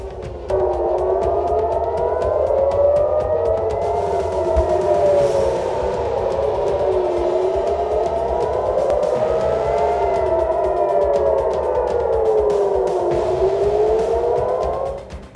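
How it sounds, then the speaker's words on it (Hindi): Air raid sirens over Tel Aviv at night wail, rising and falling in slow, steady cycles, loud and continuous, with a second tone overlapping and a low rumble underneath. "तेल अवीव रात भर सायरन की आवाज से गूंजता रहा"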